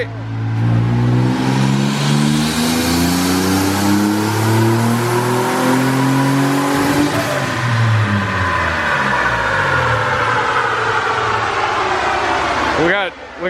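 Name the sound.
turbocharged Toyota 4Runner engine revving during a power pull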